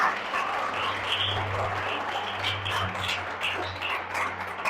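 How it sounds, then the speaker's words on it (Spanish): A church congregation claps together during a service, a continuous mass of hand claps heard at moderate level over a low, steady electrical hum. "Si ese aplauso es para Jesús, hágale más fuerte"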